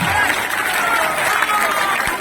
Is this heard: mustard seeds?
no